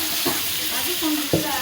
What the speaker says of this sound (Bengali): কষানো হয়ে গেলে যে ভেজে রাখা চিকেন এটা আমি ঢেলে দেব।